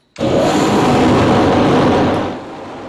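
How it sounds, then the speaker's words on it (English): A loud exhaust fan switches on abruptly and roars with a steady whooshing drone, then tapers off slightly near the end. "I might just turn this exhaust fan on for a bit"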